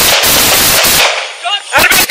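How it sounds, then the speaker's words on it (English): Gunfire from a drive-by shooting with police returning fire in Los Angeles: loud, close bursts of shots in quick succession, a short pause, then more sharp cracks. "shots fired!"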